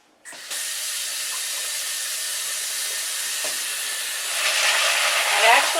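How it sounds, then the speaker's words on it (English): Beans rinsed under a running tap for a meatless cassoulet, a steady broad hiss of flowing water that starts abruptly and swells louder near the end, with splashing over the stream. "Now let's go ahead and rinse the beans."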